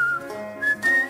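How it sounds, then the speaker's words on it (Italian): A man whistles a short, bright melody with a few sliding notes as he walks off into a wood, clear and fairly close with no talk. "fischiettando se ne va all'interno del bosco"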